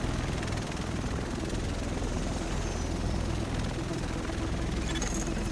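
A helicopter arrives in the video game Tom Clancy's The Division, its rotor thudding in a loud, continuous drone with rumbling engine noise throughout.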